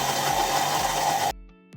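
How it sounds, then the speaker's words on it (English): A kitchen blender whirs loudly and steadily, puréeing a softened sauce mixture that still contains whole cloves, for a little over a second before the motor cuts off abruptly, leaving a brief quiet tail with a faint knock. "they will be blended in the blender well"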